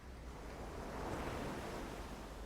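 Ocean waves washing onto an island shore, a steady broad roar of surf with soft wind, continuous and even throughout.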